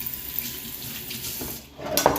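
Tap water runs steadily over fish being washed in a kitchen sink, with a brief louder splash near the end.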